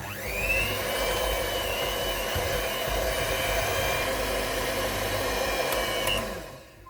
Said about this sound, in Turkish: Mikserimizin yoğurma ucuyla karıştırmaya başlayalım.